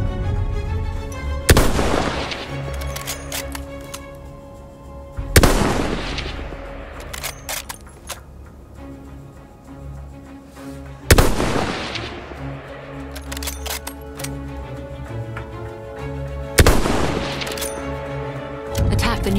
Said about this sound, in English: Wait for the enemy artillery barrage to stop firing.